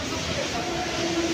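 A fast train passes at a railway station in a brief burst of steady rumbling roar with a faint tonal whine, fairly close, with voices nearby.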